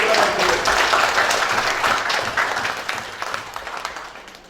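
Sustained audience applause at a business award event, the Brand Laureate Brand Icon Leadership Award 2022 in Dumai, Indonesia; a dense crowd of clapping starts full and gradually thins and fades toward the end.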